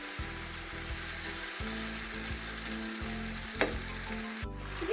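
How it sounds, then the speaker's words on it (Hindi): Boiled potatoes fry in a pan for potato bhujia, making a continuous close sizzle over a pulsing low hum, with a single sharp utensil clink near the end; no one speaks. "आलू मैंने अच्छी तरह भून लिए हैं।"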